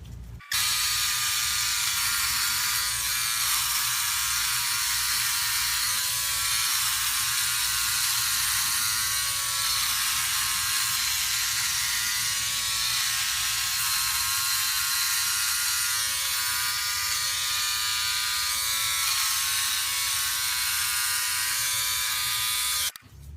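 A Philips OneBlade electric razor buzzes continuously up close for over twenty seconds, shaving wet or dry with cream, its steady whine broken by faint rhythmic scraping strokes across stubble, with no talking.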